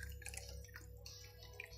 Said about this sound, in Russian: Вливаем воду в кофеварку.